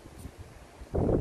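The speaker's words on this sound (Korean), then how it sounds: "바람이 엄청 나네요. 지금 흔들리고 바람 소리 들리시죠?" Strong wind buffets the microphone in low, rumbling gusts, building to a loud roaring burst near the end.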